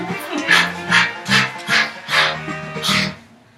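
Dog sounds in a children's phonics song, a run of about six evenly spaced short yips or barks over a sung tune, probably voiced by a singer imitating the dog rather than a real animal.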